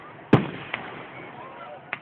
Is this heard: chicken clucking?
no